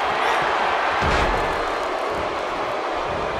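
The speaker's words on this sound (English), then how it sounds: "You can hear this crowd." Arena crowd in the WWE 2K17 wrestling video game, a dense continuous roar of cheering that holds steady and loud throughout with no pauses.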